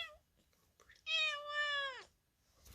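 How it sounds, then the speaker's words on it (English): A pet cat gives one clear, drawn-out meow lasting about a second, close and fairly loud, with quiet moments before and after. "It's my cat."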